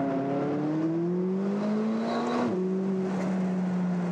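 A McLaren 570S fitted with a factory sports exhaust revs up in rising, sweeping pulls, its engine note climbing steadily then dropping back briefly before climbing again, loud and close with no talking.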